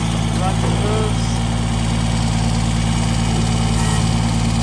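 A Bolens BGT1700 diesel riding mower with a 72-inch deck runs steadily, its engine holding a loud, even, droning hum with no change in pitch throughout.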